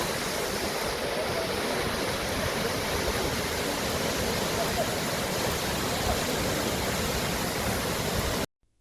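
Bomburu Ella waterfall in Sri Lanka's misty forested hills, a loud, steady roar of falling water that fills the whole scene without a break before cutting off abruptly at the end.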